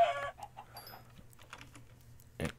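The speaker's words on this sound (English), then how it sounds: "Hello, chickens." Minecraft chickens give a few short soft clucks over a low hum, then a brief louder burst of noise near the end.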